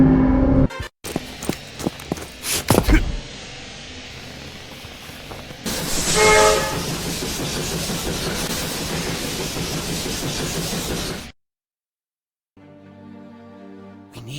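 A train in the video game Strike Force Heroes: a few sharp clanks and hits are followed by a long, steady rolling rumble with hiss and metallic rattling, then a sudden silence and a quieter tonal passage.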